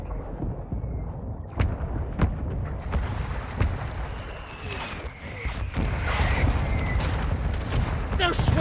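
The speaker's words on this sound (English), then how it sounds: "Mortar strike on the way!" Mortar strike explosions in Call of Duty: Modern Warfare II rumble and thump repeatedly under a dense battlefield din, with sharp gunfire cracks on top and a loud, continuous low roar that swells toward the end.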